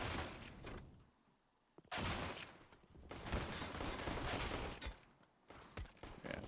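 Rapid bursts of dual-pistol gunfire from a Counter-Strike match between BIG and Eternal Fire, several clustered volleys separated by brief lulls, fairly faint and in the distance with no voices.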